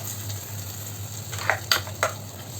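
Ground coconut paste being stirred into tomato masala frying in a pan for a hotel-style fish curry: a faint steady sizzle with a few soft scraping stirs near the end.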